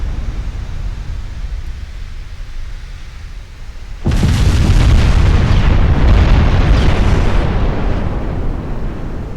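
A quiet rumbling naval battle in Ultimate Admiral Dreadnoughts suddenly gives way to a loud, sustained roar of 14-inch shells firing and exploding. The broad thundering barrage continues to the end without talk.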